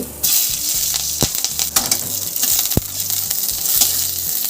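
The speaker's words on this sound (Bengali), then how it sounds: "তেলটা গরম হয়ে গেছে, এবার এর মধ্যে দিয়ে দেব হাফ চামচ কালো জিরে আর দিয়ে দিচ্ছি তিনটে কাঁচা লঙ্কা মাঝ বরাবর কেটে নিয়েছি।" Nigella seeds and slit green chillies crackle and sizzle in hot fish oil, a loud, close, continuous frying hiss with sharp pops and occasional stirring scrapes.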